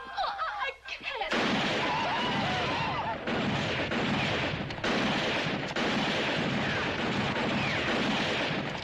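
Gunfire crackles in a western TV episode, a dense, loud barrage of overlapping shots that runs almost continuously after a brief opening, with people shouting beneath it.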